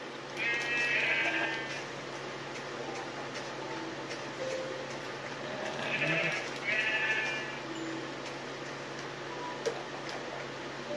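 Blocky Minecraft sheep bleat in short wavering bursts, roughly three calls spread across the stretch, fairly close over a steady in-game ambient background.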